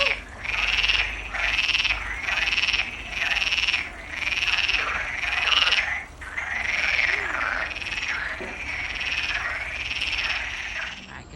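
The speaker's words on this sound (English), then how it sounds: "Look at all these frogs!" Many frogs croak together near a swimming hole along a rural walking route in Galicia, Spain, in a loud, dense chorus that surges in regular pulses every second or so, with no voices.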